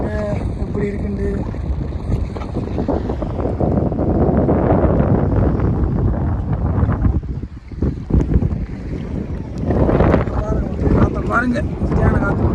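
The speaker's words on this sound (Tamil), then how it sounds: "பாருங்க சரியான காத்து மக்களே." Strong wind buffets a boat at sea, roaring steadily into the microphone with gusts and water noise throughout, dipping briefly midway before surging again; no talk stands out over it.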